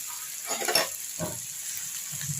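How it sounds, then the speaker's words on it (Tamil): Onions and green chilies sauté in a pan for an Andhra-style green chili chutney, giving a steady close sizzle with a couple of brief stirring scrapes. "வெங்காயம் நல்லா வதங்கட்டும். இதுலேயே பச்சை மிளகாவையும் போட்டுக்கலாம்."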